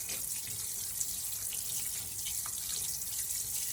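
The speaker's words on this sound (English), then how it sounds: "just rinse all that bloody film that's on the meat off where it's been setting in the package" Tap water runs steadily into a kitchen sink while raw pork is rinsed under it, a soft continuous splashing stream with small irregular spatters, fairly quiet and close, with no voices.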